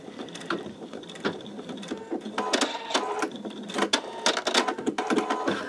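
An embroidery sewing machine running at its slowest speed with thin thread while stitching a greeting card on peel-and-stick stabilizer: close, steady mechanical clatter of rapid needle strokes, growing louder and busier as it goes.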